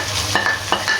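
Cubed onion and capsicum sauté in a pan for a pizza paratha filling, a soft steady sizzle broken by two or three quick scraping stirs of a utensil against the pan, close and fairly quiet.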